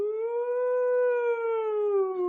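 A person's voice imitates a loud message siren with one sustained, steady, rising-and-falling "woo" howl, held alone throughout.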